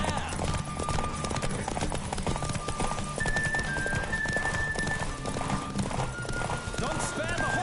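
Rapid galloping hoofbeats of a horse in The Witcher 3 pound steadily throughout a race, with a voice speaking over the running horse and a few tonal sounds in the background.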